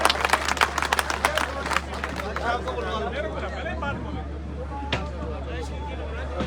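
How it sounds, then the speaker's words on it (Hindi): A crowd at a political rally for a BJP candidate in Shimla claps and murmurs, with dense bursts of applause early that settle into steady crowd babble and scattered claps over a constant low hum. "धर्मपाल जी जोरदार तालियों से अभिनंदन और स्वागत।"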